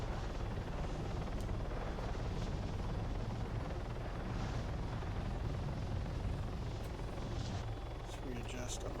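Aircraft engine and rotor noise from ARMA 3 gameplay, a steady, loud, broadband roar that fills the whole stretch, with occasional speech mixed faintly underneath.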